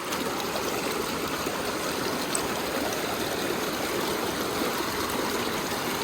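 A mountain river streams steadily over rocks during a solo backcountry hike to hidden hot springs, a continuous close rushing and gurgling of water that fills the whole stretch with no pauses.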